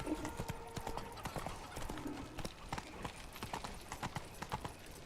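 Roach the horse trots along in The Witcher 3, its hooves clip-clopping in a steady, even rhythm over soft game ambience.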